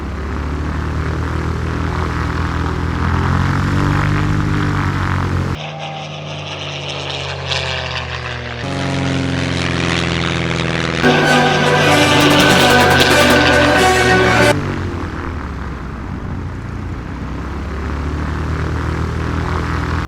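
A propeller airplane engine drones steadily in flight, loud and close, with the pitch and tone shifting between several distinct segments as if spliced together, and no voices.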